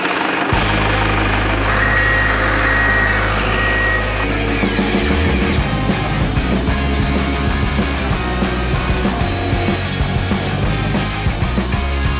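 Two snow groomers work inside an indoor ski hall, their heavy engines producing a loud, steady diesel drone that runs continuously throughout, with a high whine fading early on.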